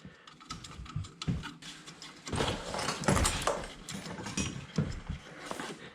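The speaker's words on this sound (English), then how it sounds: "7/16 wrench. You don't have to kill it, just snug it up." A 7/16 wrench tightening the pilot tubing nut on the gas valve of a Weil McLain boiler, a close run of irregular small metallic clicks, ratcheting taps and scrapes at moderate volume, with no one speaking.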